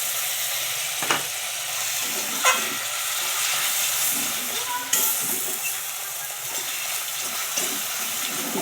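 A soybean curry sautés in a pan, giving a loud, continuous sizzle and steamy hiss with occasional scrapes and clinks of a spatula stirring, and a voice speaking faintly underneath.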